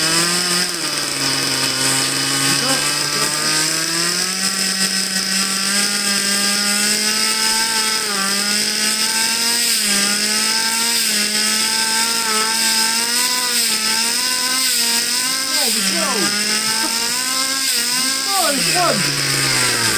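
A nitro-powered RC car engine, just restarted after cleaning, buzzes loud and close with a high, raspy whine that wavers in pitch, then revs and drops back near the end.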